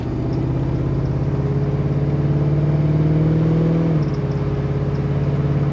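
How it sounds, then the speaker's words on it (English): A 1968 Plymouth GTX convertible with a 440 engine drones steadily while driving, pitch rising through a gear before dropping at a shift, with wind noise blending into the low engine hum. "We'll run through the gears here, show you how the tranny shifts."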